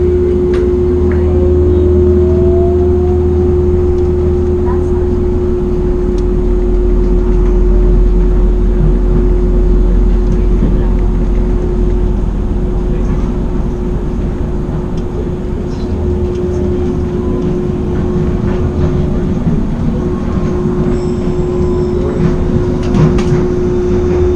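An airport terminal train serving Airline Terminal 1 runs with a loud, steady low rumble and a constant electric hum, with faint clicks and squeaks over the drone and no talking.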